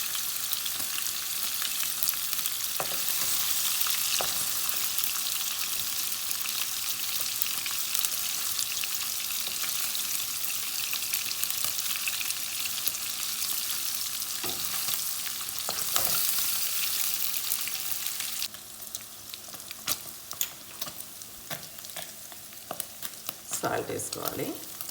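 Paneer fries in a non-stick pan on a stove, a steady loud sizzle that runs continuously and drops off somewhat near the end, with occasional stirring clatter.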